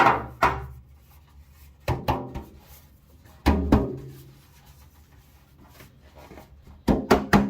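A metal cake pan greased with Crisco and dusted with flour is shaken and knocked in several separate bursts, each a cluster of hollow thumps and rattles, close and loud, with quiet pauses between.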